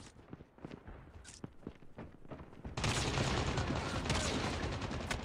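Rapid gunfire from the mobile shooter game Call of Duty Mobile, played on PC with keyboard and mouse, starts with scattered single shots and footsteps, then bursts into a sustained loud barrage of overlapping shots.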